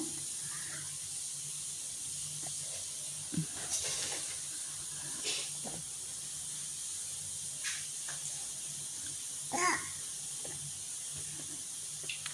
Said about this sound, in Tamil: காஞ்சி வந்த உடனே கடுகை போட்டு கடுகு நல்லா பொறிஞ்சு வரட்டும்